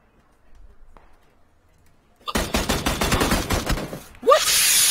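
Gunfire in the video game PUBG: a fast burst of rapid automatic shots, loud and close, following a quiet stretch, with a brief gap and then a final sharp burst.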